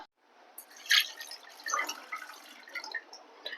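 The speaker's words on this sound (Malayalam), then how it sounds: "ഇനി ഇച്ചിരി വെള്ളം ഒഴിച്ചു കൊടുക്കാം" Water poured into a pot of jaggery being melted for Kerala-style sweet rice porridge: a short, close, splashing trickle with uneven drips and pours.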